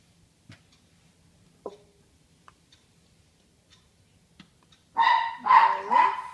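A dog barks three times in a quick burst, moderately close, after a stretch of near silence broken by faint ticks and clicks.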